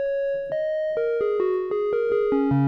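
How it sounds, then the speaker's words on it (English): Synthesizer square-wave tone playing a stepped sequence of sustained notes, each change marked by a sharp attack, buzzy and bright with strong harmonics, alone and steady in level. "Next up, square wave."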